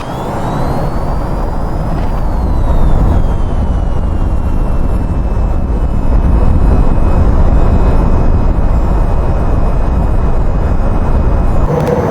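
An aircraft takes off from runway 21 in the VTOL VR flight game, a loud, steady engine roar and rushing noise with a rising then falling whine, continuous throughout and without speech.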